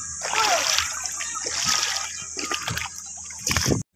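River water at Barangay de Guzman splashes and sloshes loudly close by in a churning, continuous rush, with scattered voices of people, including children, mixed in.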